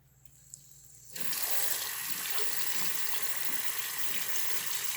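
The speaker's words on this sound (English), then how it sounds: "now let's rinse them off one by one" Fidget toys are rinsed under a kitchen tap: after a quiet moment, water suddenly gushes out and runs loudly and steadily, splashing close by.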